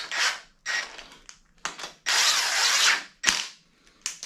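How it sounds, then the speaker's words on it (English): An impact wrench running engine bolts down in several short bursts, some brief and one held for about a second, close and sharp with quiet gaps between bursts. "I'm going to take my impact, and I'm not going to full send them"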